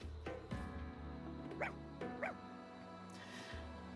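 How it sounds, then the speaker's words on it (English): A dog in the video game Fire Emblem Engage lets out two short, yippy barks in quick succession over a low, steady in-game music bed, fairly soft in the mix. "Is that a dog? Oh, it's a dog!"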